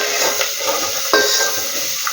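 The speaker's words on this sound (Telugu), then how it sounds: "ఇవన్నీ మంచిగా వేయించుకోవాలి." Ingredients for a curry sizzle and hiss in a hot pan, a steady close frying sound with a brief scrape of stirring midway.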